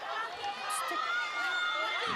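A vocal crowd cheers and roars continuously throughout a women's rugby match between Pacific island nations at the Oceania Championship, a dense wash of many voices swelling loudly with no pause.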